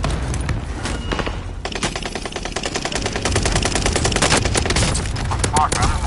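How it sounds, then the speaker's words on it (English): Dense rapid gunfire in a first-person shooter game, a sustained loud burst of rattling shots with a few heavier thumps, continuous throughout. "Dude's got a shotgun."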